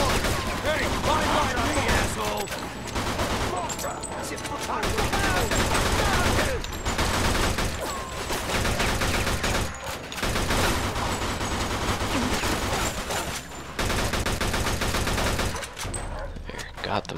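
Bursts of gunfire crackle through a video-game shootout in Mafia 2, rapid volleys and machine-gun rattles recurring loudly, broken by short gaps, with shouted voices mixed in.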